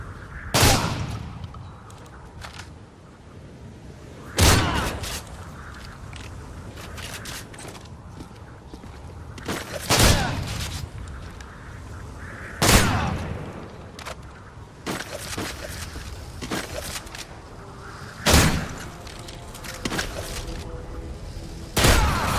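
Shotgun fired at point blank in Modern Warfare 3, about eight loud separate blasts spaced a few seconds apart, with quieter game noise and footsteps between them.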